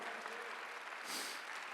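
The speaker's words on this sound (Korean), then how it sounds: "박수 한번 주세요." A church congregation at a Korean Sunday worship service gives a brief round of applause, faint and distant, lasting under two seconds.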